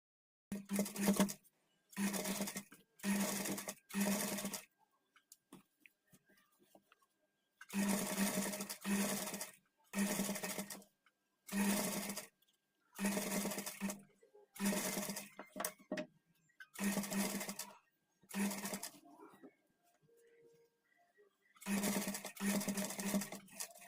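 Close, loud sewing machine runs in a steady pattern of short stitching bursts with silent gaps between them, sewing piping onto a patchwork blouse back neck.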